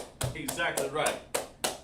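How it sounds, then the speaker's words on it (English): Several sharp hand claps ring out in a small group, spaced unevenly with a few loud strikes, mixed with someone talking over them. "Let's clap it up for the young man."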